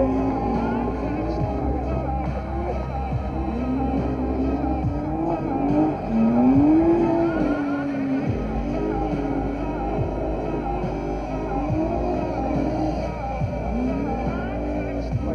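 A drift car's engine revs and wails at a distance while tires squeal in long slides at a drifting competition in Vinnytsia, mixed with crowd noise and a loudspeaker voice.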